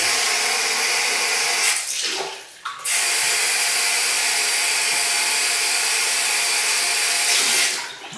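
Water runs steadily into a Kodak measuring jug as it is washed out. The rushing pours in loudly and close, breaks off briefly partway through, then resumes and fades near the end.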